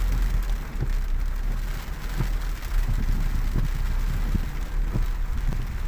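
Rain falls during a drive, a steady broadband hiss with wind buffeting and scattered soft thumps of drops, heard up close throughout with no talk.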